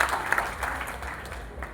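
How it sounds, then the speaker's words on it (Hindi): Brief, fairly soft crowd applause greeting a guest at a public inauguration event in Agar, a short continuous patter of clapping from the gathered audience. "एक बार नीलेश जी के लिए जोरदार तालियां बजाकर स्वागत करें आप।"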